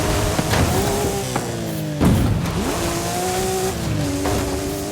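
A Porsche 911 races off-road in a racing video game, its engine droning steadily with rising and falling revs as gears shift, tyres scrabbling and squealing, with a sharp jolt midway, loud and continuous with no talk.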